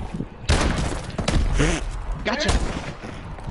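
Gunfire in a shooter video game, loud bursts of shots and thumps starting abruptly and continuing, while someone talks over the shooting.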